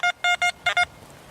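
An XP Deus metal detector sounds five short, clear target beeps, grouped in two bursts over a quiet hiss.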